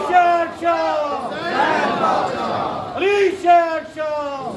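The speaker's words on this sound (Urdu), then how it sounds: "نعرے" A crowd at a Majlis gathering shouts religious slogans in unison, loud rhythmic chanted calls rising and falling, with a leading voice answered by massed voices.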